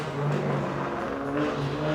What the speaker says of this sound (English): muffler's broken